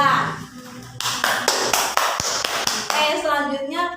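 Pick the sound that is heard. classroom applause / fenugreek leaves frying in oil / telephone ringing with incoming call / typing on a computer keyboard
classroom applause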